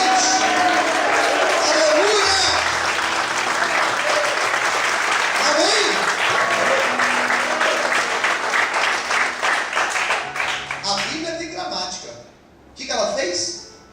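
A church congregation applauds during a worship service, loud sustained clapping from many people that thins and fades near the end, with a voice speaking over it and briefly alone before the clapping swells again.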